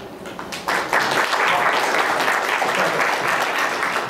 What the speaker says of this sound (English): Rarely do I get clapped onto the stage,